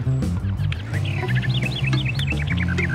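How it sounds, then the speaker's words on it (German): Game-world bird calls for a rare eagle in the video game Roundabout: a run of short, bright chirping whistles repeating quickly over a busy, steady bed of background music and ambience. "Look, it's an incredibly rare straight lurping hover eagle."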